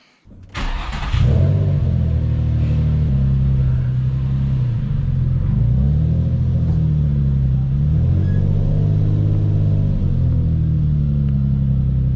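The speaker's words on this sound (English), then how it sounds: "the only thing left for us to do now is to fire it up and go take it for a test drive" A drift car's engine cranks and catches with a sharp burst, then settles into a loud, rumbling idle with several throaty revs rising and falling.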